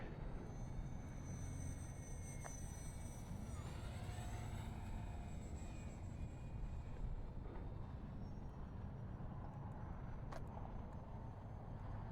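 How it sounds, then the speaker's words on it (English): Small FMS F4U-4 Corsair radio-control model plane making a low flyby, a steady buzzing engine drone with a rising and falling whine, heard at a distance over constant outdoor background noise. "Come in for a low flyby."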